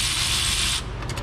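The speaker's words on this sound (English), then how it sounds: "I'm just gonna go ahead and remove all those with my electric ratchet" An electric ratchet spins out differential cover bolts on a GMC 2500 truck, a steady close mechanical whir and clatter for about a second that cuts off, followed by a few brief ratcheting bursts.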